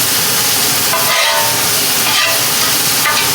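Onions sizzle loudly in a hot skillet beside a smash burger, a dense, constant hiss close up with a few brief swells as they are stirred.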